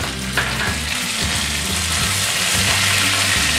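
Curry leaves hitting hot oil in a pan with urad dal while making onion chutney, a loud steady sizzle and crackle that carries on without a break for a few seconds.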